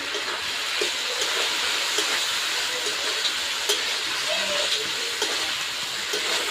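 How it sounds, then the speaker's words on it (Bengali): Chopped medium-sized tomatoes with dry chilli powder being sautéed in a pan for a fish roe curry, giving a steady sizzling hiss throughout with faint stirring scrapes, close and moderately loud. "খুব ভালো করে এবারে আমি কষিয়ে নেব।"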